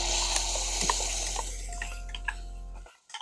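Onions frying with masala in a pan for a Mangalorean-style mud crab ghee roast, a close, busy sizzle with scraping stir sounds that fades out near the end, no talking.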